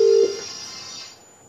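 A telephone keypad gives a brief dialing tone burst, then a fading electronic hum trails off as the line falls quiet.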